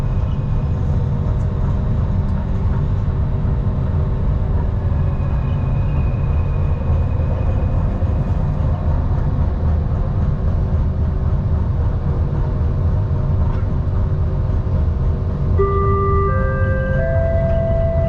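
An LRT train pulls away from KL Sentral station in Kuala Lumpur, Malaysia, with a steady rumbling drone of the moving carriage, continuous and fairly loud, and brief tonal whines near the end.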